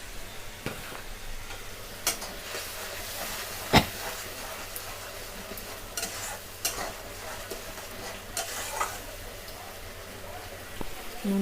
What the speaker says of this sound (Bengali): নুনটা দিয়ে আমরা ভালো করে কষিয়ে নেব